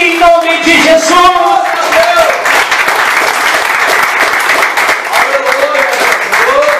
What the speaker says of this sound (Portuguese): Pode aplaudir em nome de Jesus.